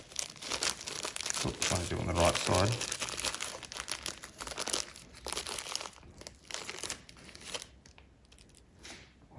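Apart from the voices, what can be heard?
plastic bag crinkling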